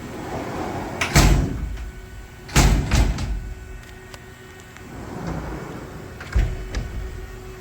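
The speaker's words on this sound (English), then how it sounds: "Need to close the door to make a tool change." The heavy sliding door of a 2018 Haas VF-4SS CNC vertical machining center thuds and rattles shut several times, each a loud bang with a rumbling tail, separated by quieter mechanical shuffling.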